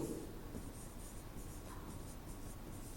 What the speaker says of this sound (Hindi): चलो यहां अलग से लिखते हैं इसको